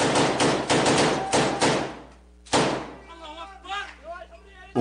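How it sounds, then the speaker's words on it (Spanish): Automatic weapons fired by rebels at government forces around a wall in news footage, a few rapid bursts of loud gunfire followed by a sharp crack, with someone talking afterward. "se les ve disparando armas automáticas alrededor de una pared hacia las fuerzas del gobierno"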